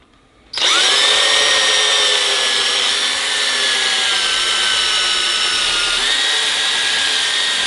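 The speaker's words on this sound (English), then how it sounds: "So I'm just going to drill a hole close to the edge of the plug." A power drill bores a hole near the edge of a freeze plug in an engine block, starting abruptly and holding a loud, steady whine that dips slightly in pitch as the bit bites into the metal.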